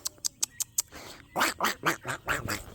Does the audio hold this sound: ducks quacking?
yes